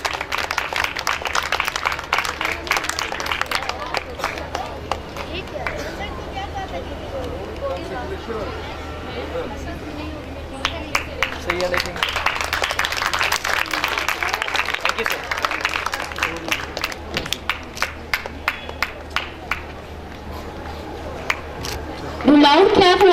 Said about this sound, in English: Do loud clap for Hassan Rashid.